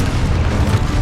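A Confringo spell explosion in Hogwarts Legacy erupts as one loud, dense, rumbling blast that fills the whole brief moment.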